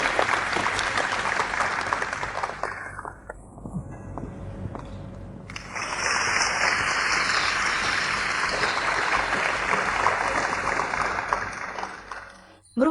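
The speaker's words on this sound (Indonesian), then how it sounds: "Mari beri tepuk tangan." An audience at a formal ceremony gives a round of applause, dense steady clapping that briefly thins, then resumes strongly before fading at the end.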